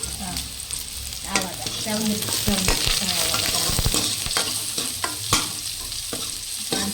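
Spices for a fish curry crackle and sizzle in hot oil, with a steady popping fry under a brief spoken word and occasional stirring clicks.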